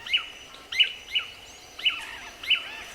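Manakins call in the Brazilian forest, giving five sharp, high chirps spaced roughly half a second apart over a faint steady insect hum, fairly near and with no talk.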